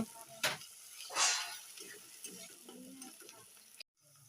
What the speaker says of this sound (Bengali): পেঁয়াজটা আমার এখানে ভালো করে ভাজা হয়ে গেছে